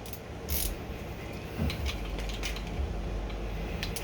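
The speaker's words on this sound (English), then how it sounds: "now you can take your cam gear bolts off" Engine teardown with 10 mm cam gear bolts being loosened by wrench: scattered close metallic clicks and short ratcheting creaks over a steady low hum, no talking.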